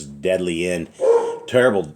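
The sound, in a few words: dogs barking in another room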